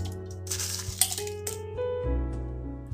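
Ice cubes dropped into a glass of milk with mango pulp for a mango milkshake, several hard clinks and clatters in quick succession over a low background hum, with no talking.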